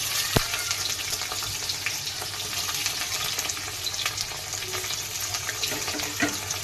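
Potato, onion and tomato pieces frying in a pan, a steady close sizzle with occasional stirring clinks, no voices.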